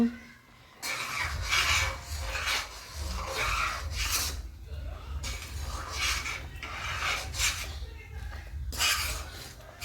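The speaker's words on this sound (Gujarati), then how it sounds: "બધું દૂધ બળી જાય ત્યાં સુધી હું હલાવી રાખીશ." Milk reducing in a pan for carrot halwa is stirred steadily, a close rhythmic rasping scrape of the spoon against the pan bottom repeating in strokes over a low simmering rumble.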